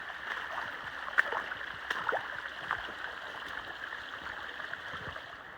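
Water gurgles and rushes steadily along a flooded, muddy trail that has become a stream, with scattered splashes and sloshing steps close by.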